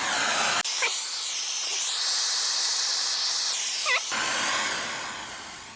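A torch flame heats and melts solder on a patch panel of a 1963 Ford Falcon, giving a loud, steady roaring hiss that holds for about three and a half seconds and then cuts off, with fainter background noise on either side.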